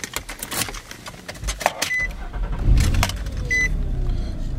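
Car keys and two remotes for a 2006 Nissan Xterra jingle together inside the vehicle, a metallic jangle scattered throughout with a soft beep and low cabin rumble beneath.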